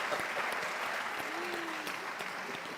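Steady applause from an audience at a press conference for a bi-national commission session, a dense even clatter of clapping that runs unbroken for the whole span without a break.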